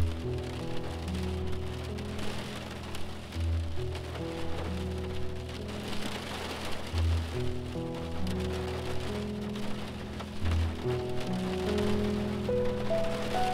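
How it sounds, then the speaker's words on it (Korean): Rain taps steadily against a window beneath a soft, sustained ambient music bed, an even patter that never swells or breaks across the stretch. "창을 두드리는 빗소리."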